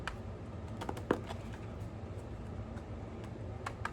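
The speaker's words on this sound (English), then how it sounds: "I'm shuffling now." Oracle cards shuffled by hand, a quiet run of quick, irregular riffling clicks and taps close by, with one sharper snap partway through and no talking.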